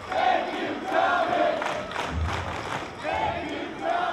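A pro wrestling crowd chants in rhythmic, repeating swells, each phrase rising and falling about once a second over the general arena roar.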